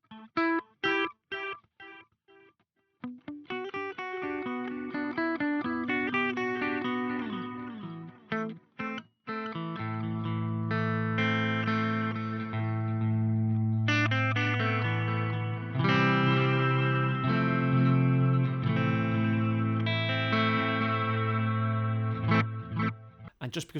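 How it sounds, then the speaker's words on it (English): An electric guitar plays through a Meris LVX delay pedal on its magnetic setting, giving a degraded, wobbly tape-echo sound. Picked notes and chords ring out with repeating echoes, loud and continuous with no talking. "And then magnetic, which you're going to hear that more degraded sort of tape echo feel to it."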